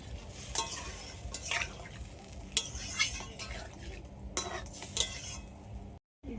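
Spices fry in a pan for a taro curry, with a spoon stirring and scraping against the metal in repeated bursts over a low sizzle.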